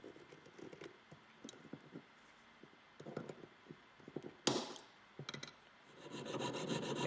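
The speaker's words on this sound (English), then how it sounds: "Any thicker sprues can be sawn off." Hand sawing through thick metal casting sprues in a lost wax casting workshop, quiet irregular rasping strokes with scattered scrapes and taps, growing into a denser grinding rub toward the end.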